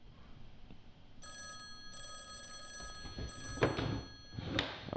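A telephone bell rings in repeated bursts of bright tones, moderately loud, while knocks and thuds of someone rummaging sound around it.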